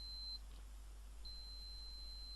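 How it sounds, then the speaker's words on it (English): A multimeter gives a continuity beep while probing for a short on an 8800GT graphics card, with two thin high-pitched tones: a short one, then a longer steady one after a brief gap, quiet over a low mains hum. "although the meter's beeping"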